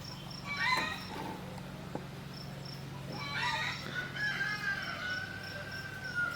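A rooster crows twice outdoors at moderate distance, each call a drawn-out rising and falling cry, over a steady bed of chirping insects and a low constant hum.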